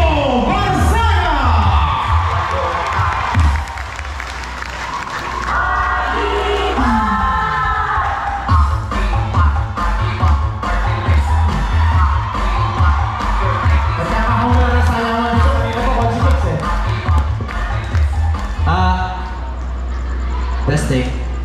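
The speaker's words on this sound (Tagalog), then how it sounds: "Gusto ko rin marinig ang malakas na palakpakan, sigawan, hiyawan para kay Consial Kiko Barzaga!" A crowd at a Philippine party-list campaign meet-and-greet shouts, whoops and cheers loudly and steadily throughout, with yelling voices layered over a busy crowd roar.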